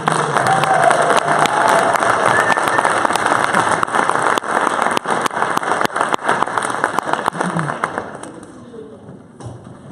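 A crowd at a high school mayoral and council debate applauds for Kirby, a loud, dense wash of clapping that tapers off near the end as a voice comes in.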